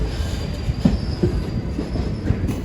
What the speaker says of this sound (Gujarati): ટ્રેન જો કેવી રીતના પોતાનો ટ્રેક ચેન્જ કરે છે